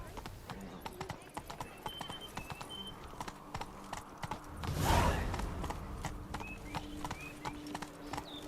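Galloping horse hooves in The Witcher 3 Blood and Wine, a steady rapid clip-clop running throughout with a brief louder snort or whinny midway, faint voices in the background.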